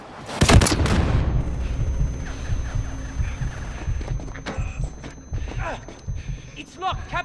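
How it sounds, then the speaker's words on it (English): Incoming missiles in a Call of Duty night mission, with a heavy explosive boom up close followed by rumbling, thudding blasts and debris under game audio and shouted dialogue. "Missiles incoming."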